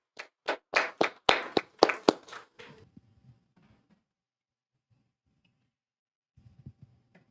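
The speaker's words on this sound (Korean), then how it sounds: "큰 박수로 환영해 주시기 바랍니다." A short burst of audience applause welcomes a speaker at a forum, roughly ten sharp, distinct claps over about three seconds that fade into near silence, with faint rustling at the end.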